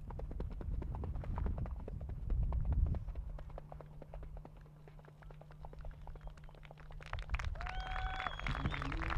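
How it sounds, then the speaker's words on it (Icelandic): Horse hooves on a track at an Icelandic horse breeding show in Hafnarfjörður, a steady clip-clop rhythm of a four-year-old horse, moderately near, with a low hum and faint background. "efsti hestur í 4 vetra flokknum Koncept frá Hofi"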